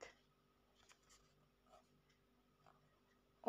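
A pen scratches answers onto paper in short, faint strokes with pauses between them, quiet and close in an otherwise still room.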